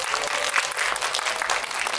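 An audience claps throughout at a Korean film talk event with the director and an actor, the applause dense, steady and fairly close, with no distinct voices rising above it.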